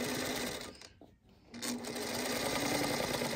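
A sewing machine stitches quilt butterfly blocks with a steady, close mechanical whir that breaks off for about half a second and then runs on evenly to the end.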